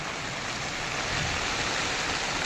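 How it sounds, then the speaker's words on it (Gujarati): Heavy downpour during a thunderstorm, heard as a steady, even hiss of rain that fills the whole moment without a break; no voices. "ફૂલ વરસાદ ચાલુ છે ભાઈ"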